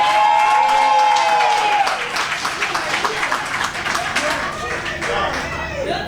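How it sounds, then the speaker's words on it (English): An audience at a pay equity celebration claps warmly, loud at first and then settling into a looser, thinning patter of individual claps. "give it one more big round of applause for Nataki Rhodes."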